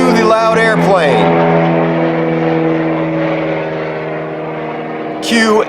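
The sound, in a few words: loud airplane flying overhead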